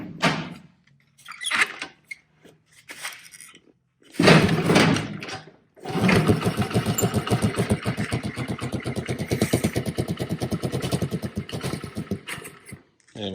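A 1984 Honda Z50R minibike being kicked over a few times, then its small engine catching and running with a rapid, steady putter, close and fairly loud, before cutting off near the end.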